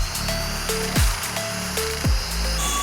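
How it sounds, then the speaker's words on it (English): A small rotary power tool grinds a carved Black Hawk beak, a high steady whine with repeated sharp pitch drops and rises as the bit bites the material, close and loud without talk. "I prefer to stay on the outside of the line. That way I can grind to the line."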